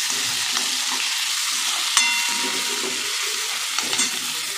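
Tomatoes sauté in a pan for a dhaba-style palak chole, a steady broadband sizzle with scattered scrapes and clicks of a spoon stirring, one sharp clack near the middle.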